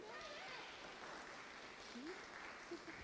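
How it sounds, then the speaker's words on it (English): A church congregation at Sunday worship claps for children who coloured advent calendars, a soft, even patter of applause from a modest crowd that stays steady throughout, with a few voices faintly underneath. "So everybody give them a round of applause for their efforts today."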